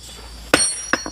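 A cheap hammer strikes hard stone in three sharp, close metallic impacts, one alone and then two more in quick succession, over a quiet background.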